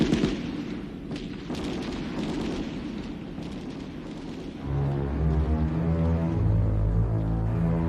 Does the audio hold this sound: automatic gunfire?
yes